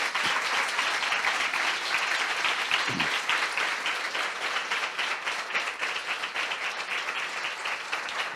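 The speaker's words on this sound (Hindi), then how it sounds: "क्या हम प्रभु के लिए आज तो ताली बजा सकते हैं इस वचन के लिए?" A church congregation applauds after a sermon, a loud, sustained wash of many hands clapping that carries on steadily and evenly throughout.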